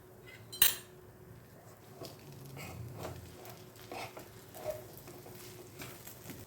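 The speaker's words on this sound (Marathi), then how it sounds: "हे छान आपण मिक्स करून घेऊया." A spoon clinks against a pan while ragi sheera is mixed with sugar, dry fruits and ghee, one sharp metallic clink early, then soft scraping and stirring sounds, quiet and close.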